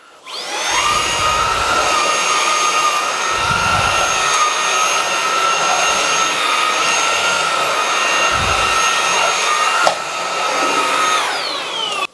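A Xiaomi Handheld 1C cordless stick vacuum runs steadily on medium mode, a continuous whirring motor whine with a high tonal hum, close and loud, no talking.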